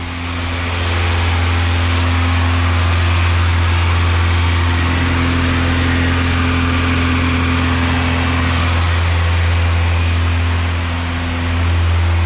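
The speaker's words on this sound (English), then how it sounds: "Exhaust sounds really quiet." A car engine idling inside a garage with a quiet exhaust and an unplugged idle air control valve, a loud steady low hum that holds even for the whole stretch with a slight dip near the end.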